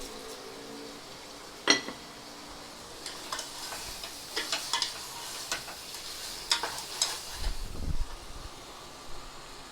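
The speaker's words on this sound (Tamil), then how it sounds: "நல்லா கிளறி விட்டுக்குங்க." Prawn biryani is stirred in a pot, with scattered scraping and clinking of a spoon against the metal and a soft sizzle underneath, the strokes irregular and close.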